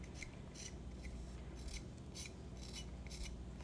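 Trimming tool scraping bone-dry clay on a ceramic piece, a soft rasping scrape repeated in a steady series of short strokes, close and quiet over a low background hum.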